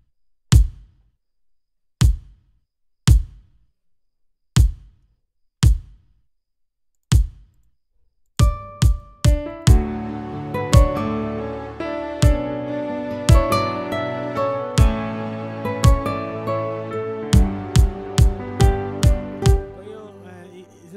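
Layered kick drums for a worship beat programmed in FL Studio: five lone punchy thumps evenly spaced, then the kick continues under a fuller mix of tonal instruments and percussion.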